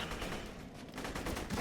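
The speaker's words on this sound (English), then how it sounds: "I'll go to the incendiary shotgun." Incendiary shotgun blasting repeatedly in Borderlands 2, a dense run of booming shots with no pauses between them, steady and close, with no talk over it.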